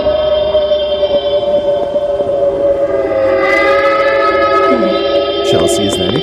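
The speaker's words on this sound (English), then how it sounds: "a couple seconds later a whistle is heard" A sustained whistle-like tone layered with steady tonal hum in an allegedly haunted place, continuous and fairly loud, with wavering pitch bends near the end.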